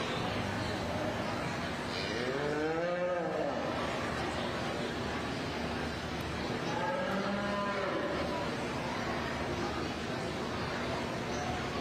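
Cattle in the show ring at a youth fair moo twice in long, drawn-out calls over a constant crowd murmur in a large hall.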